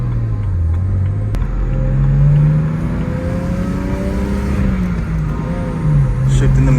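A BMW 335i engine drones steadily from inside the car while driving, its pitch climbing and dropping as gears are shifted, with a sharp click early on and continuous road rumble throughout.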